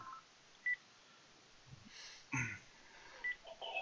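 Telephone keypad dialing tones on an incoming call: short, faint electronic beeps spaced irregularly against a quiet background, with a brief burst of several tones near the middle.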